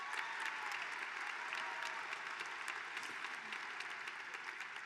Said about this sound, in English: A round of applause for these two remarkable students